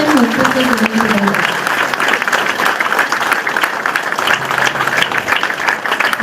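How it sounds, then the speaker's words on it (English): Applause for the organisers of a Finance Golu event, a loud, continuous wall of clapping from a sizeable audience, with a voice speaking over the opening moments before the clapping carries on alone. "let's just give a big round of applause to all of them who have put this event together."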